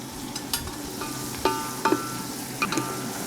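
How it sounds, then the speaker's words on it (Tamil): Whole green chillies and onions frying in a pan give off a soft, steady sizzle, broken by a few light scrapes and clinks from stirring close by. "வெங்காயம், பச்சை மிளகா நல்லா வதங்கட்டும்"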